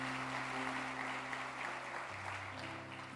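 A church congregation claps at a service, steady applause of many hands at moderate level over a sustained organ-like tone.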